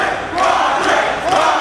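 Pro wrestling crowd in Chicago cheering for Roderick Strong, a loud, dense roar of voices that swells and holds, with chants rising through it.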